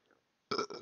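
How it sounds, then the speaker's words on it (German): A short, close burp from a man during a livestream, a single voiced belch breaking in two parts after a moment of near silence. "Boah, ich muss richtig rülpsen gerade."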